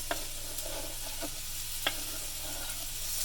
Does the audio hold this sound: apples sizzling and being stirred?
yes